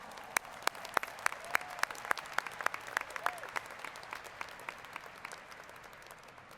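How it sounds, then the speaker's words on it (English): Audience applause at a community college graduation ceremony for a graduate receiving an associate degree, with sharp nearby claps standing out over a softer, distant crowd wash that slowly fades, and a faint voice briefly heard. "Let's give him a big round of applause."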